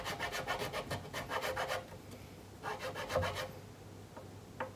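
A file rasps back and forth cutting string slots into a guitar nut, working from the sixth-string side with a slightly thicker file; close, steady bursts of strokes come in two runs separated by a pause, ending with a few lighter scrapes.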